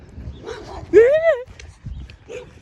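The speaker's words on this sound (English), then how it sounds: "Dog." A dog in a neighborhood gives a single sharp bark near the middle, fairly close, amid people murmuring.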